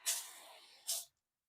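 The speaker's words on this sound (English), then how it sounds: "So now not only did I spray them for a while, I'm going to go spray everything else normally." Water is sprayed onto orchids in two close hissing bursts from a spray bottle, a longer one followed by a short one, then silence.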